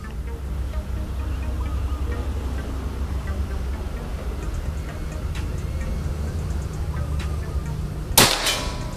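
A single sharp crack near the end comes from a PCP Predator air rifle fitted with a slug barrel during an accuracy test at 50 meters. It rises out of a low, steady background hum.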